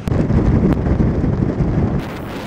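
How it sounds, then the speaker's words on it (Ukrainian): Strong wind buffets the microphone aboard a speedboat racing through a fjord, a loud continuous rumbling roar that eases slightly toward the end. "А на цьому катері, коли ти несешся і тебе обдуває вітер,"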